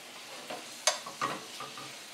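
Chicken pieces fry in olive oil in a pan on a home stove, giving a soft, faint sizzle broken by a few sharp clinks and stirring scrapes, with no talking.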